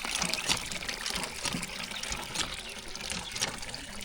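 Water gushes steadily from a village hand pump near Hyderabad, a continuous close splashing and pouring that stays loud and even throughout.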